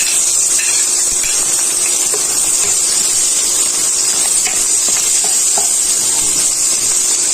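Garlic sautéing in a pan for pakbet, with onion about to follow: a steady, fairly loud sizzle and hiss of frying runs without a break, with small pops and stirring clinks scattered through it.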